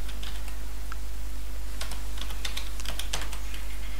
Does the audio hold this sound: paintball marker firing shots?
no